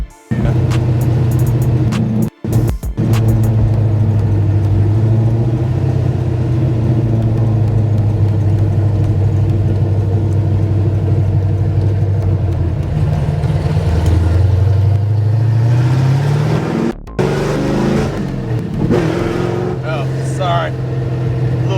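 A 1969 Plymouth Road Runner with a 660 HP Mopar engine and open pipes drones loud and steady through the gears, its deep exhaust rising and falling under pulls, with brief cuts as it shifts and people talking over it.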